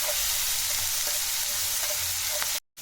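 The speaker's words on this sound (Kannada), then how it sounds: "ನಾವು ಎಣ್ಣೆಯಲ್ಲಿ ಸ್ವಲ್ಪ ಫ್ರೈ ಮಾಡ್ಕೋಬೇಕು." Dill greens frying in oil in a pan for a lentil dish, giving a steady, close sizzle with a few faint stirring clicks, then a sudden cut to silence near the end.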